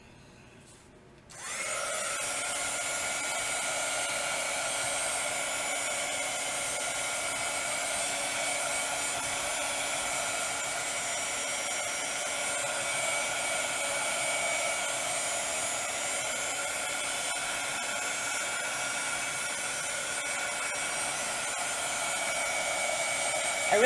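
A hair dryer switches on after a quiet moment and blows steadily to dry paint on a craft project, a loud, even whirring hiss that holds unbroken to the end.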